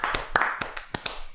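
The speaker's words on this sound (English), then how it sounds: "I'll clap." A single person claps a handful of times during a casual podcast chat, quick irregular hand claps close to the microphone with talk around them.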